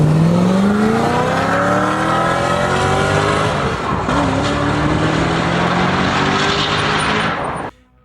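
A Koenigsegg supercar's 4.7 liter supercharged V8 roars loudly and continuously, its pitch climbing through the gears as it passes close by, then cuts off abruptly.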